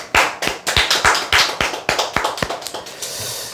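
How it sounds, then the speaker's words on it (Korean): A small group claps hands in a quick, uneven burst of sharp slaps, fairly near and loud, tapering off toward the end with no talking over it. "박수 한번 칩시다."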